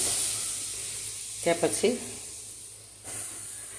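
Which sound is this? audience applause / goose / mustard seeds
mustard seeds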